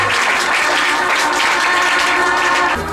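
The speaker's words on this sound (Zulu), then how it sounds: "Cela uyishayele ihlombe nawe okuba ukhona phakathi kule ndawo" Church congregation clapping hands in a loud, dense, unbroken burst of applause that holds steady for a few seconds before easing off.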